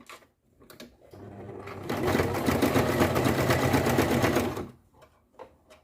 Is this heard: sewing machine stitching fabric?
yes